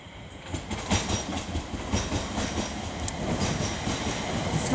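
A London Northwestern Railway passenger train rolls into Coventry station with rhythmic clacking of wheels over rail joints, growing gradually louder as it nears, with no voices.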